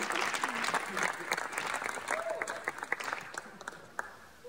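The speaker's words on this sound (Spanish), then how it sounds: "Esto merece un aplauso para esta empresa." Audience clapping for a company, uneven and moderately loud, with scattered sharp claps and some voices mixed in, fading toward the end.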